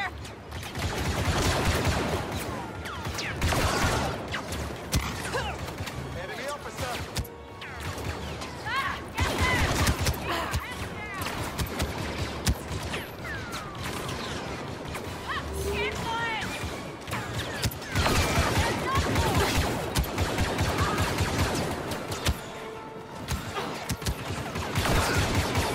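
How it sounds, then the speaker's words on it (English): Rapid blaster gunfire in the Star Wars Battlefront 2 game, dense bursts of sharp shots and crashes loud throughout, with brief lulls and voices speaking over parts of the battle. "Open fire!"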